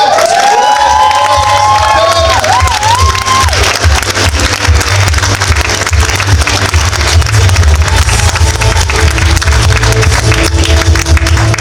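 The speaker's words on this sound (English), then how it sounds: "can we have a massive round of applause for everyone who's actually been organising the events as well" A large comic-con crowd at a cosplay championship applauds and cheers loudly and continuously, with whoops and shouts, while music plays underneath.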